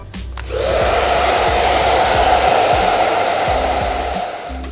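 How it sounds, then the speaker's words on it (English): A hair dryer fitted with a diffuser runs on a low to medium setting, switching on with a click and then holding a steady, loud, close airy whoosh with an even motor hum, no voices. "grab the diffuser and pop it on low to medium and do the same thing again"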